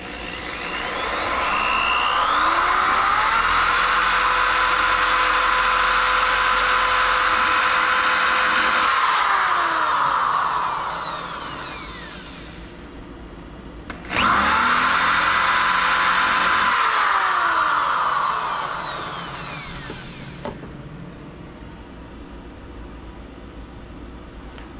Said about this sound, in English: The drill bit wants to slide.